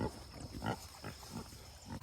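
Pigs in a paddock giving soft, low grunts, a few short irregular snorts spread across a quiet outdoor background, faint and close.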